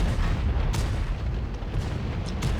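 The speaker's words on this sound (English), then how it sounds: "He bounces a return shot from Live to Destroy." An E100 heavy tank's gun fires during a video game tank battle: heavy booming shots hit a few times over a dense, loud, continuous rumble of battle noise.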